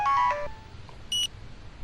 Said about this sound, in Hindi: लगता है डैड का फोन आ गया